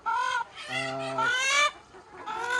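Several free-range chickens on a poultry farm cluck and squawk nearby in a run of overlapping calls, loud and close, with brief pauses between bursts.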